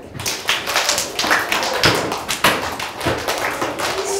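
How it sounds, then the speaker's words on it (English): Children play a Simon says game indoors, clapping in a loose burst of sharp overlapping claps and taps that comes and goes in several uneven waves, with faint voices in the background. "Simon says clap."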